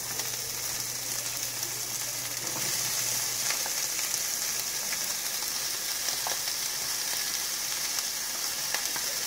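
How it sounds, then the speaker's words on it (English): Onions frying in butter in a small pan, a continuous close sizzle with scattered pops and crackles throughout and a faint hum early on. "Then you're going to take the onions and you're going to put them in the pan."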